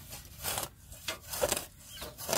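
A sharp-tipped weeding tool scrapes and rasps through hard soil and dense tough grass in repeated rough strokes, close and moderately loud with no voices.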